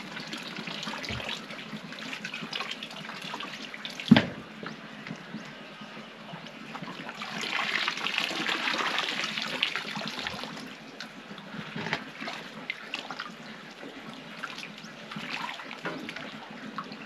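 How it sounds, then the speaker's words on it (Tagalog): Water from a tarp-lined fish pond holding tilapia and eels, drained by hand, trickling and splashing steadily, swelling midway, with a sharp knock near the start. "Mano-mano lang yung pagbawas natin ng tubig dito ngayon"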